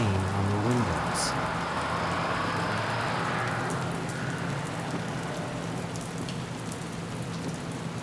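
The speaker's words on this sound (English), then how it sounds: "trying to ignore the constant pattering of rain on the windows" Steady rain pattering on the windows of a moving bus, a dense, even hiss that runs the whole time at moderate level, with a brief tonal rumble and a faint high chirp early on.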